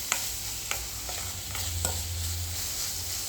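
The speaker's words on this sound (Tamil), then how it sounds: "இது இன்னும் கொஞ்சம் நல்லா இந்த வெங்காயம் வதங்கட்டும்." Onions sauté in a pan for a mushroom peanut gravy, giving a soft, steady sizzle with a few light spoon taps and stirring strokes, close and moderately quiet.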